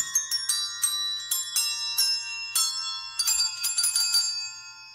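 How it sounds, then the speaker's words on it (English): Small bells worn all over a woman's body, struck in quick irregular bursts of bright ringing tones, some clustered rapidly, with notes decaying between strikes and no talking. "it's a woman with bells all over her body"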